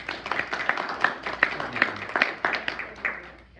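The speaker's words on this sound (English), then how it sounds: "Let's give all of them another round of applause." A small meeting audience gives presenters a round of applause, sparse and distinct claps in an irregular rhythm that thin out and fade toward the end, moderately quiet.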